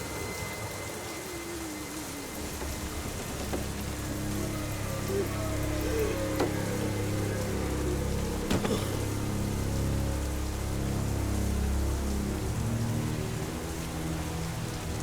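Heavy storm rain pours steadily and loudly onto surfaces, a dense continuous wash with faint crackles, with no talking.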